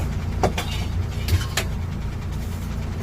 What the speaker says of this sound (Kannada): ಗಾಡಿ ರನ್ನಿಂಗಲ್ಲಿ ಬಿಟ್ಟಿದ್ದೆ